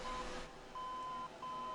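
Cockpit warning beeps sound in a Boeing 707 flight simulator video game: three thin, steady electronic tones, the first short and the next two longer, repeating with brief gaps over a faint background hiss.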